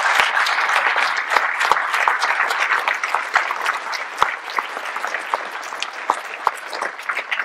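Sustained applause from an audience honouring municipal staff, a dense, even wash of many hands clapping with sharper individual claps popping out here and there throughout.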